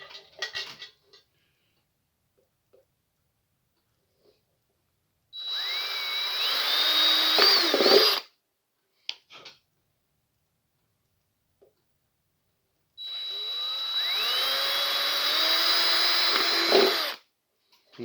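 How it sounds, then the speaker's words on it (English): Two bursts of a power drill whining as it drills holes in a metal coffee pot, each lasting a few seconds, separated by quiet with faint clinks in between. "once I get my holes drilled"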